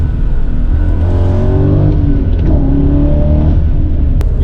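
A 340,000-mile BMW E39 M5 with a Dinan Stage 2 exhaust drones loudly from inside while driving, the engine note rising and falling through shifts and steady throttle, close and dominant, with no talking.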